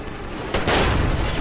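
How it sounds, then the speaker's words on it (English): An explosion erupts in the video game Metro Exodus, a sudden loud burst of noise about halfway through that swells and lingers as a rumbling roar. "something is exploding here"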